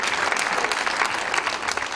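At a live concert, an audience applauds the musicians with steady, dense clapping from a full crowd, loud and sustained throughout with no break.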